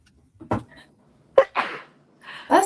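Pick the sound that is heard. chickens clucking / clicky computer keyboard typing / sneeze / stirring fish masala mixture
sneeze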